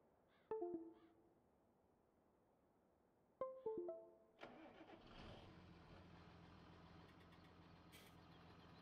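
Tractor engine in Farming Simulator 17 cranks twice without catching, each attempt a short burst of clicking and whirring, then turns over on the third try and settles into a steady, close idling rumble.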